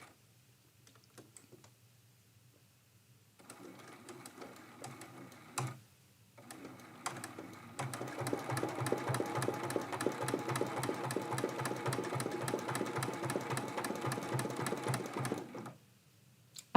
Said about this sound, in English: I'm just going to do a couple stitches and then we're jumping over to the tag.